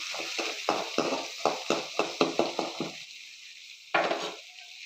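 Repeated scraping and clattering of a utensil stirring onions sautéing in a pan, about a dozen quick strokes, with a soft background sizzle, no talking.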